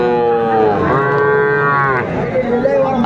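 Young bull and heifer calves at a livestock market moo loudly in one long, close call with several shorter bellows around it, alone without speech.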